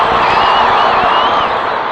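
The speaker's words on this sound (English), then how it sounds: "And the crowd loves that." A soccer crowd at a New York Cosmos versus Portland Timbers match roars with loud, sustained cheering that fills the whole moment.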